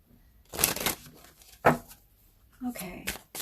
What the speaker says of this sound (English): I'm going to go into the shuffling, and I'm going to shuffle, get all the cards